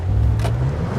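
A BMW M5 launching in manual mode, a loud low engine rumble held steady through the brief moment, with a short rising surge midway.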